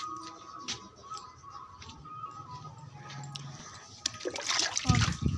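Water is poured onto potted plants in the evening, starting with faint trickles and ticks and swelling into a louder, close splashing stream near the end.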